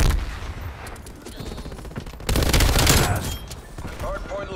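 A Stoner machine gun fires fast automatic bursts in Call of Duty: Black Ops Cold War, a rapid rattling stream that swells louder midway, with game voice chatter mixed in.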